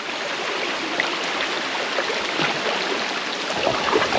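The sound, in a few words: water flowing at a dam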